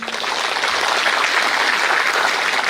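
Steady, dense applause from a large audience at an official appointment ceremony, evenly sustained throughout without pause.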